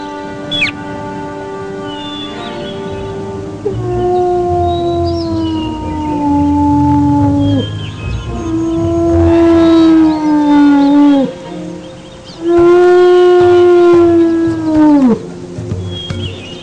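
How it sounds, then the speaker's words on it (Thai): A fox in an animated cartoon gives three long, wavering howls that rise and fall in pitch one after another, separated by short pauses, loud and close with a faint background hum. "สุนัขจิ้งจอกจึงส่งเสียงร้องขึ้นมาสามครั้ง"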